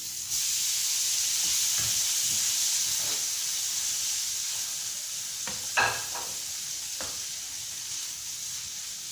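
Crayfish frying with onion in a pan, giving a steady, close sizzling hiss throughout with a few brief clinks and stirring sounds near the end.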